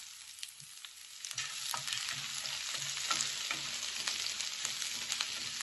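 Onions, curry leaves and fennel seeds fry in oil in a pan with a steady crackling sizzle, stirred with intermittent scraping knocks, close and continuous with no talking.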